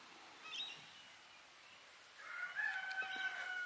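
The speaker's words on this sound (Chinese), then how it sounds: "这公鸡。" A rooster crows once at a moderate distance on a rural property, a rising drawn-out call near the end after a brief earlier cluck, over quiet background.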